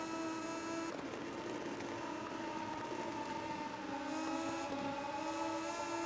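Moto2 racing motorcycles in MotoGP 19 video game, a sustained droning engine note holding near steady pitch with a quick shift around the first second and slight pitch drops later, several bikes blending together, no voices.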